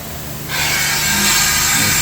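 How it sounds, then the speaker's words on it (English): A Bavelloni VDM 1636 vertical drill starts drilling glass with a steady, loud grinding whir that swells in after a low machine hum and holds evenly, close and without talk. "Now it's moving so I can drill the second hole."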